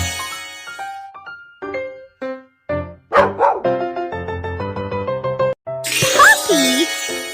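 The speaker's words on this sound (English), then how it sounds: "Puppy!" Cartoon puppy barking, a run of short, high, bright yips in quick succession, loud and close, set against playful tones in a children's game.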